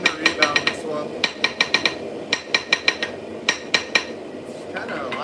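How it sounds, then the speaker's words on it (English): Hammer strikes on an anvil in a shop forging damascus steel ring out as sharp metallic clanks, some in quick clusters and some spaced apart, loud and close. "Sometimes I do use my anvil."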